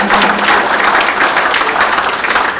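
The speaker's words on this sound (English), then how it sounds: "let's give him a big round of applause" An audience at a book event gives a big round of applause for an author, loud continuous clapping filling the whole stretch with no voices on top.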